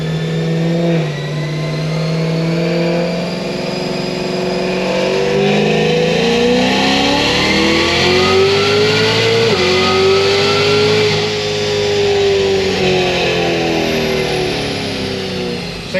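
A Cadillac CTS-V V8 revs hard under full acceleration, its pitch climbing steadily through a gear and then dipping at a shift before rising again, loud and close for the whole stretch with no talking.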